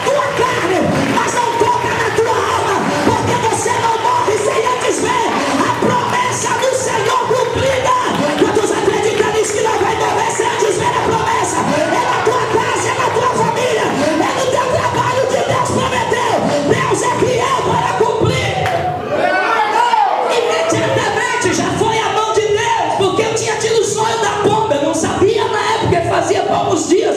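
A church congregation applauds during a pastor's testimony service, a dense, loud, sustained wash of clapping and cheering voices that runs almost throughout, with a brief dip near the end.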